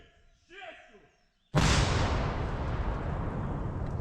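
An artillery gun fires a single booming shot in a war setting, a sudden loud blast followed by a long rolling rumble that fades slowly, with a brief faint voice just before it.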